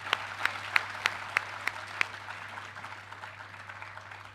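A conference crowd applauds at an award moment, opening with a few crisp, evenly spaced loud claps near by over a thin patter of others that fades to softer clapping, with a steady low hum underneath.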